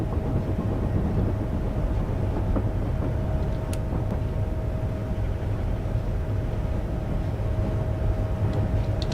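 A Pendolino train in a train simulator game runs on the Woodhead line near Manchester, giving a steady, loud rumbling drone of wheels and motors that is unbroken throughout. A faint tonal hum sits under it.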